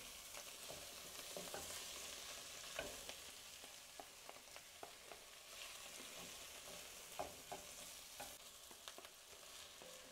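Garlic and tomato paste being stirred in a soup pot, a soft, steady sizzle with light, irregular scraping taps from the spoon, quiet and close.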